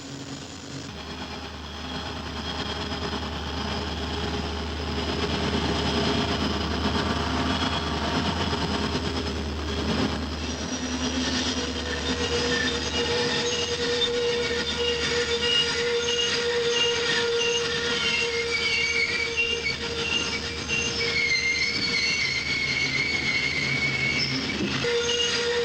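Locomotive descending the steep 1984 Saluda Grade on an 11-degree curve under dynamic braking, wheels squealing steadily against the rail over a continuous low rumble and drone of rolling railcars, loud and close throughout.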